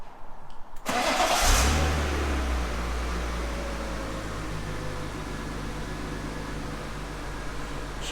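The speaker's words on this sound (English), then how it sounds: "as soon as we put the ignition back on and recycle the key and started the car" A BMW 328i engine cranks and fires into life, then settles into a steady idle with a loud, continuous low rumble close by.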